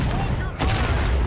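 A ragged musket volley in War of Rights, a dense crackle of many shots fired together in a short loud burst, with a sharp crack standing out midway.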